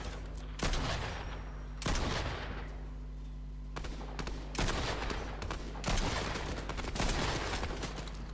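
Gunfire in the video game Fortnite: loud, sharp shots and short bursts recur every second or so over a steady background hum, with no voices.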